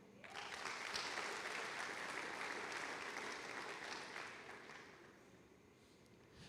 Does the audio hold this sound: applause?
yes